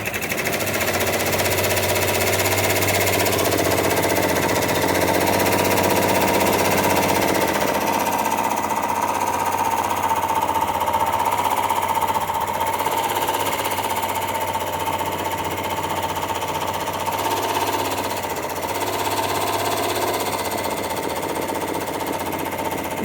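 An embroidery machine stitches a design on a hooded towel, a loud, rapid, continuous needle hammering with a humming motor underneath that runs steadily throughout; no voices.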